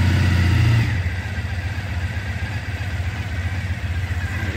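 A Triumph Thruxton motorcycle engine settles into a steady burbling idle around 1,000 RPM after a higher fast-idle note drops away, loud and close with a rhythmic low pulse.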